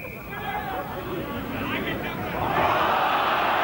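A rugby league crowd at a 1990 Kangaroo Tour match between Cumbria and Australia roars with a broad, rising wash of voices that swells louder toward the end, distant and continuous beneath a commentator's talk.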